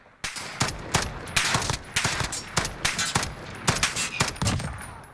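Rapid bursts of FN FAL rifle fire in the Call of Duty Modern Warfare shooter, loud close shots in quick irregular strings filling the whole stretch, with no talking over them.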